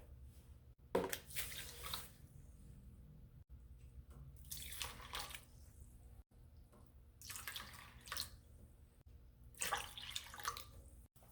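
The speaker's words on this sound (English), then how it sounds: "we are going to soak the bulgur in some water." Water pours in several separate bursts, splashing and trickling into a container of bulgur to soak it, with quiet pauses between pours and no talking.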